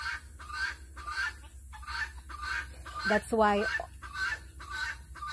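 Chickens on a Texas farm yard give a steady run of repeated clucks and squawks, with one louder honking call in the middle; a brief voice speaks near the start.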